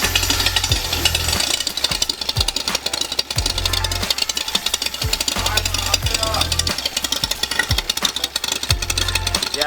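A BMW E36 engine with a screamer pipe idling, a loud choppy pulsing rumble heard up close, with voices talking over it.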